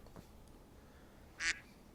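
A cartoonish duck honk sounds once as a short, loud squawk from The CD-ROM Game of Life, standing alone over a quiet background.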